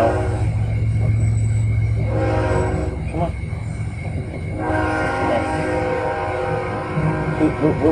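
A train passes close by, a loud continuous rumble of cars on the rails with horn tones sounding early on, while a person talks and fusses over a cat nearby.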